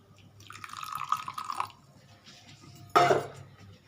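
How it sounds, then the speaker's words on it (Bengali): Hot water poured into a little oil in a pan, with a soft trickling stream lasting about a second, a pause, and then a brief sharper splash or sizzle close by in a kitchen. "তেলটা আমি ছড়িয়ে দিই একটু গরম জল দিই"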